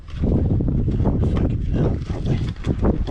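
Loud, gusty wind buffets the microphone in a continuous low roar, with rumbling surges rising and falling throughout.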